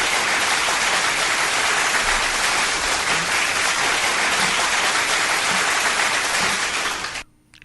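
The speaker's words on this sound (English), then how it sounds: "I'll turn on the applause for Jeremy." Canned applause sound effect played on a talk show, a dense, steady wash of clapping and cheering that runs loud and unbroken for about seven seconds before cutting off abruptly.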